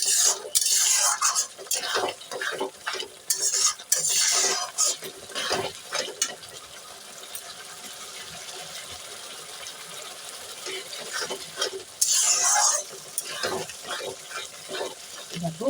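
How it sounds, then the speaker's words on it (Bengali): Spice paste frying and being stirred in hot oil with a little Kashmiri chili, for a Bengal village cucumber and prawn curry: steady close sizzling with bursts of scraping stirring strokes, loudest at the start and again near the end. "অল্প একটু কাশ্মীরি লঙ্কা দিয়ে এবার ভালো করে মশলাটাকে কষিয়ে নেব।"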